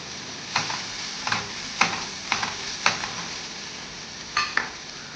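Red chili powder and turmeric fry in a pan for a quick chutney, a steady soft sizzle under repeated spatula scrapes and taps that come at uneven intervals, close by.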